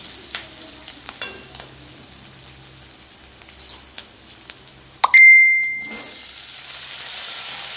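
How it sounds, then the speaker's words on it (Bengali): Ginger, garlic, onion and panch phoron frying in hot oil, a continuous crackling sizzle with occasional spoon taps, then a brief electronic beep and a louder hiss surge near the end. "আদা রসুন পেঁয়াজ পাঁচফোড়ন সব ভেজে নিচ্ছি"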